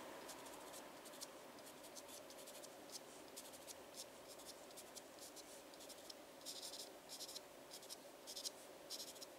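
Pencil drawing on paper for a peacock picture, a steady soft scratching and scribbling with quick rhythmic strokes, close and quiet, continuing alone without talk.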